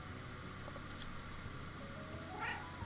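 A 13-year-old cat gives a few faint meows, one brief cry near the middle and a drawn-out higher call toward the end, heard over a quiet indoor hum.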